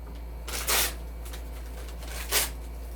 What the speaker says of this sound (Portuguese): Eu rasgo o papel em tamanhos aleatórios mesmo, tamanho pequenininho.